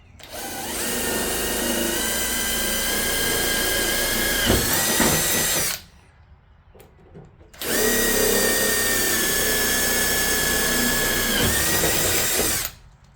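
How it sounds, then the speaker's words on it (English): A power drill drilling out rivets on a Butler access door whines loudly in two long bursts, each about five seconds, with a short quiet gap between them. "these 2 holes at the top, you've got to drill them out."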